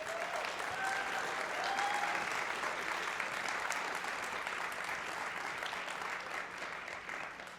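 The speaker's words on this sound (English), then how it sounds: "Give them a round of applause." A crowd claps steadily in a large room for a high school concert band, with a few faint whistles early on, the applause slowly thinning toward the end.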